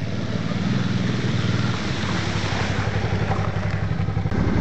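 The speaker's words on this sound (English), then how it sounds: "the V-Strom, of course, is the perfect tool for the job, to go through all these puddles and all these mud" Suzuki V-Strom motorcycle engine running loud and steady while riding through puddles and mud, a continuous throaty drone with rhythmic pulsing and a broad wash of noise, no voices.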